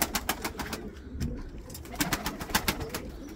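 Tumbler pigeons, show and roller birds kept in a loft for sale, coo and flutter in a continuous close chorus, with soft repeated coos and wing rustles layered over a steady background.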